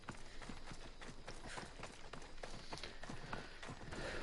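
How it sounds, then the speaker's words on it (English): Horse hooves clip-clopping at a run in Assassin's Creed Odyssey, a steady rapid rhythm of soft thuds over a dense, even game background. "Horse. That way."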